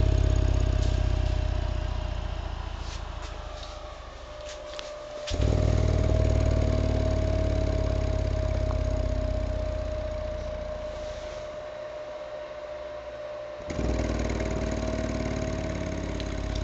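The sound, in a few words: 12-inch Lightning Lab subwoofer playing loud bass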